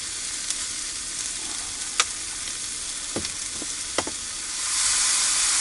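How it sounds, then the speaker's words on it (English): Mushrooms seasoned with garlic salt fry in a pan in a van kitchen, a steady close sizzle with a few sharp spatula taps and pops, growing slightly louder near the end. "Alright, those mushrooms are cooking up really nice,"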